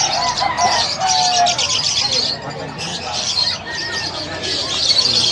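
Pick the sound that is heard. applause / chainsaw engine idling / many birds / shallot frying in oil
many birds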